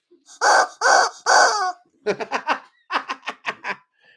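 A chicken calls up close and loud, with three drawn-out squawking cries followed by quick bursts of choppy clucking.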